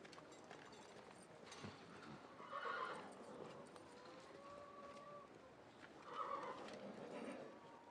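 Persian horses whinny twice in a film scene: two loud, shrill neighs a few seconds apart over a low, murmuring background, with faint hoof-like sounds between them.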